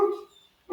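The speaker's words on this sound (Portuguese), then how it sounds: "Esse é o meu cachorro latindo." A dog barks loudly at home, two brief, close, sharp barks separated by a short pause.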